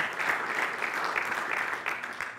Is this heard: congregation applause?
yes